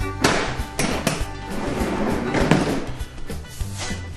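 Drawers slide and knock on a Festool Sysport workbench holding systainer boxes, a close series of irregular thumps, taps and rattles, with a voice faintly in the background.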